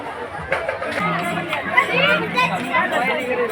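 Dense crowd chatter at a busy, packed Hindu temple during darshan, many overlapping voices forming a steady close murmur throughout.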